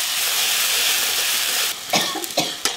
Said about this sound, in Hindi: ये मिर्ची खांसी